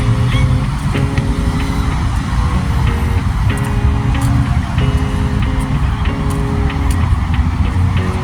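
Steady drone of road traffic in a park area, cars rolling past at moderate distance with continuous engine and tire noise, faint horn-like tones and light clatter layered on top, no talking.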